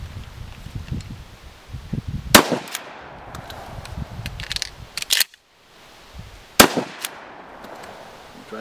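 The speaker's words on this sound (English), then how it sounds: "I got a loaded shell in the shotgun. I'm just going to shoot down range at a jug" Two sharp, loud reports of a shotgun firing shotshells down range at a jug outdoors, spaced a few seconds apart, with quieter handling rustles and clicks between them.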